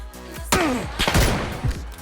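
A couple of sharp gunshots in PUBG, loud and punchy with short echoing tails, one early and more shots following.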